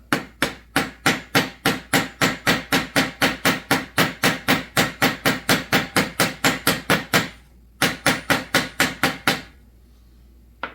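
A hammer strikes rivets on a chainsaw bar tip in a fast, steady run of sharp, loud metallic blows, about three per second, breaking off briefly and then resuming before stopping, with no talk.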